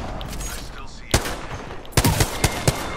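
Video game gunfire: a few sharp shots, then a rapid burst of close gunfire in quick succession, over a background of game noise and a faint voice.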